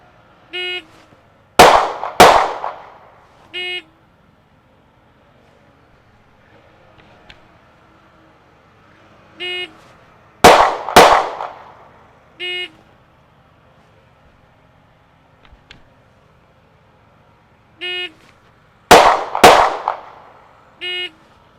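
Canik Mete MC9 pistol fired at a target in three drills, each a pair of sharp, loud close shots, with electronic timer beeps sounding before and after each pair and near silence in between.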